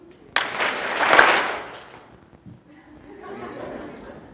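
Conference audience clapping together on cue: a sharp burst of group claps swelling into brief applause with chatter and light laughter, then fading to murmuring crowd noise.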